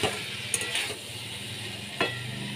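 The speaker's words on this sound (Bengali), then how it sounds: "চিংড়ি মাছ দিয়ে আমি ভালো করে কষিয়ে নিচ্ছি।" Prawns stir-fried with taro stems in a pan, steady sizzling with a few sharp scraping stirs of a spatula against the pan, close and fairly loud throughout.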